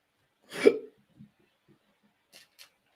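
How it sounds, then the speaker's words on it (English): A man gives one sharp, loud hiccup close up, followed by a few faint small sounds and quiet breaths. "Oh, have I got hiccups now?"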